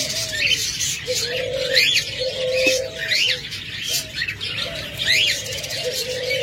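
Cockatiels in a breeding box with eggs give repeated chirps and calls, with soft cooing notes underneath. The calls come in a steady, close series against a noisy background.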